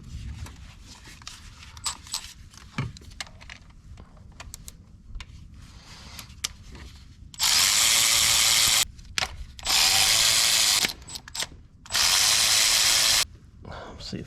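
Ratchet or power driver working on the fuel rail of a 2018 Honda Accord 1.5 turbo during an injector replacement: scattered clicks first, then three loud sustained bursts separated by short pauses.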